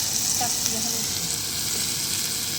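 Lentils and moth beans frying in a pan, a steady sizzle heard close, with light stirring scrapes and a brief voice early on.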